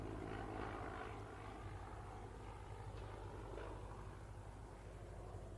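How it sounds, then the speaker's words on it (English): A Spitfire propeller aircraft drones overhead above a golf course, a faint steady engine rumble mixed with wind and background noise. "there's a Spitfire literally, Leon, about to go over your head and it looks incredible"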